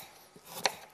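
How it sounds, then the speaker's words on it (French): A knife cuts carrots on a cutting board, slicing them on the diagonal: a single sharp, close chop stands out over a quiet kitchen background, with no talking. "je finis de découper en biais"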